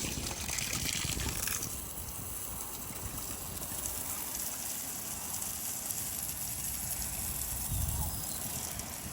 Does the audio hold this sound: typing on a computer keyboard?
no